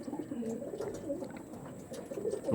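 Tournament-quality pigeons coo softly and repeatedly at close range, low murmuring calls overlapping in a quiet enclosure with a few faint chirps.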